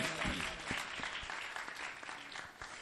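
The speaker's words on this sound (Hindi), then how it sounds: "इन फलों के लिए जोरदार तालियां बजा देंगे हम।" A church congregation claps loudly in appreciation during a sermon, a dense, steady wash of applause with a few sharper individual claps standing out near the listener.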